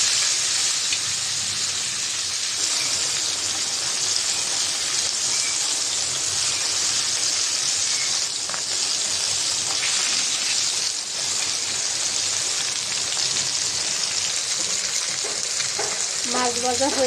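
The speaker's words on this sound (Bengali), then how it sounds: "তো মাছটা ভাজা হয়েছে, এই পিঠটা উল্টাই দেই।" Sea fish sizzles and spits in hot oil in a pan, a steady, dense frying crackle throughout with a couple of brief clatters as the fish is turned over.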